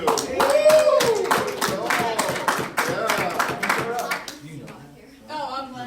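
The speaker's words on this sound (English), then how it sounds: "Thanks for clapping." Audience clapping after a classroom project presentation, close and fairly loud, with cheering and voices mixed in and the clapping thinning out toward the end.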